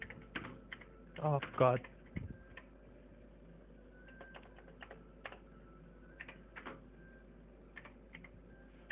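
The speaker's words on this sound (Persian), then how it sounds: "با زدن یه آلت و شیفت پشت سر همین من شروع میکنم" Fingers tap a computer keyboard in a sharp burst of clustered keystrokes, then scattered lighter clicks at a close distance, while someone talks quietly over them.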